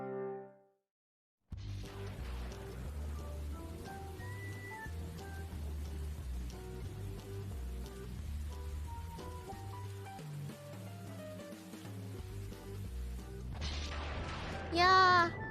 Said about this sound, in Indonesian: Ya, hujan turun lagi.